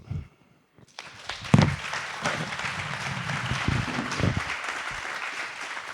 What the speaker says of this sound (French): j'ai envie de vous applaudir